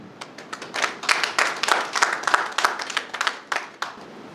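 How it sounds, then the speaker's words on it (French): A small conference audience claps steadily, individual hand claps distinct and fairly close, keeping up a brisk uneven rhythm for several seconds. "mesdames et messieurs, on va s'applaudir"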